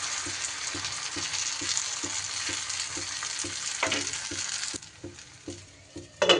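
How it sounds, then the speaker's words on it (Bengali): Rice and lentil batter poured into a hot pan crackles and fries with a loud, continuous sizzle, regular soft ladle taps pulsing underneath, before the frying drops quieter near the end. "এবার এর মধ্যে দুই হাতা ব্যাটার আমি দিয়ে দিলাম।"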